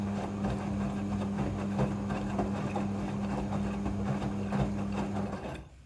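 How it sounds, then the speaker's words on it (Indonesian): A Midea front-loading washing machine runs on an automatic wash cycle, giving off a steady low mechanical hum with a constant drone and faint rattling. It keeps an even loudness and cuts off just before the end. "Mesin cuci front loading sudah full automatic dalam mencuci."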